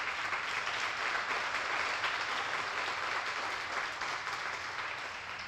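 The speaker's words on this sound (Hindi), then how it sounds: "मैं चाहूंगा उनके लिए भी एक बार जोरदार ताली बजा दीजिए" Sustained audience applause fills a hall at a network marketing business seminar, dense and steady clapping from a large seated crowd, loud and continuous throughout.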